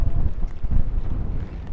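Wind gusts buffet the microphone out on a boat off the Corsican coast in summer. The rumble is low and uneven, with a steady turbulent roar and no speech.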